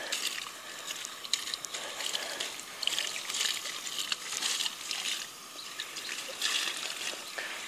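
Water trickling and sloshing through play sand in a bucket as it is rinsed for aquarium substrate, a faint, close, uneven splashing that carries on steadily.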